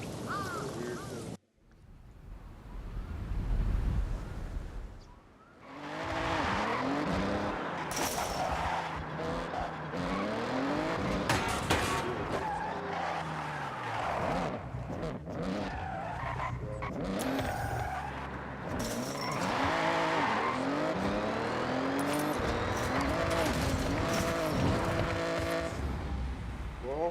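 Truck engine revving and tires skidding in the racing game Forza Horizon 6, a loud continuous drive with repeated squeals and gear shifts after a brief drop near the start.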